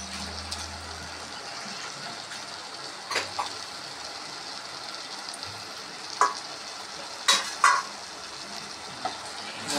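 Squid frying and being stirred in a pan, a steady sizzle throughout with a few sharper scrapes and clacks of the spoon against the pan, close up and with no talk.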